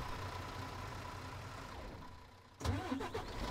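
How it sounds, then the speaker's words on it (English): A fire truck engine cranks and catches at a fire station after a low steady rumble, the start rising abruptly near the end into a louder, rough idle with no talking. "Get the engine going."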